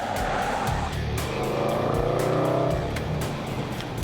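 Range Rover Sport SVR on the road gives a loud, raucous, steady engine roar with a rough, crackling edge, close and continuous throughout.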